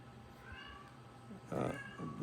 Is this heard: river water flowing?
no